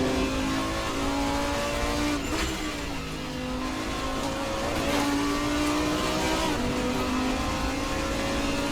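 Race car engine in Assetto Corsa at Monza roars continuously and loudly, with rising and falling revs as gears shift through corners, a sustained whine with no talking.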